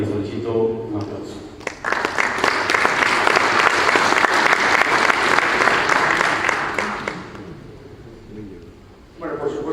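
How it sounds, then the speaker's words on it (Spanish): Audience applause at a formal talk or conference in Spanish, a dense burst of clapping swelling and fading over several seconds, with a speaking voice before and after. "para quien solicito un aplauso"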